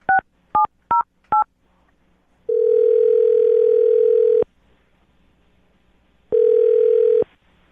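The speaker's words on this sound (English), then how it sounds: "I'm going to dial her phone number right now." A telephone dials a number: four quick touch-tone beeps, then two long steady ringback tones separated by silence, clear and close.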